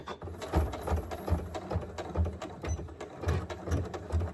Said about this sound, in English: let's follow the 1/8 inch right to where we started, and we'll back stitch again